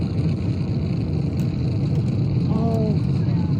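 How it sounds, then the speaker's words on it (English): Artemis 1 liftoff with its two solid rocket boosters and core stage engines, a continuous low, rumbling roar heard from a distance, steady and unbroken, with some background voices and a brief chirp. "Listen to those SRBs!"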